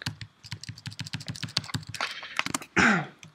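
Rapid keystrokes on a computer keyboard while code is typed during a programming job interview, a steady clatter of close clicks followed by a brief louder rustle near the end.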